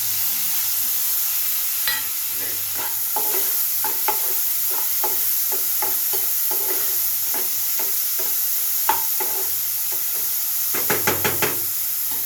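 Chopped tomatoes sizzle in a pan while making bread podimas, with a steady frying hiss broken by repeated knocks and scrapes of a spoon stirring against the pan.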